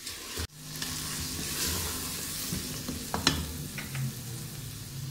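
Qeema (minced meat) fries in a pan with a steady, dense sizzle throughout, broken by an opening clatter and a few scraping, clinking strokes of a spoon stirring the mince, with no voices.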